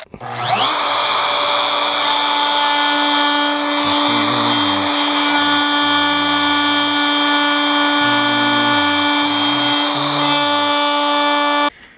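A router spins up loud and steady, its high whine holding strong as the bit cuts the truss rod adjustment nut channel in a guitar neck for a Les Paul Custom build, a continuous run of about twelve seconds with nobody talking.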